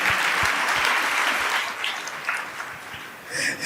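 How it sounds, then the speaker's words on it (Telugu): Audience applause at a Telugu Christian message gathering, a dense steady patter of many clapping hands that thins briefly near the end before swelling again, with no talk over it. "ఇప్పుడు కొట్టాలి అసలు లెక్క ప్రకారం చప్పట్లు"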